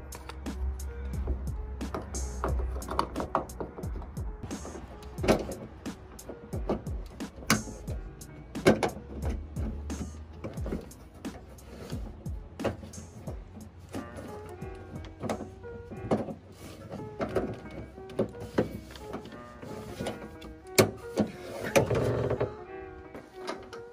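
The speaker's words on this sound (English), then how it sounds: "now we have to clip the handle into this metal knob" A car door handle on a Toyota Starlet EP91 being fitted and clipped onto its metal knob, giving a series of close plastic and metal clicks, taps and scrapes scattered at an irregular rhythm.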